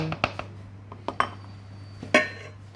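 Utensil clinking against a bowl while chicken salad made from leftover roast chicken is mixed with sauce, a few sharp separate clanks and scrapes, close and fairly quiet.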